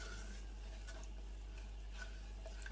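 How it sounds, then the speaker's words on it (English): Lemon juice, sugar and zest get stirred in a pan for lemon curd, a steady soft swishing and scraping with faint clicks of the utensil over a constant low hum, no voices. "stir that through"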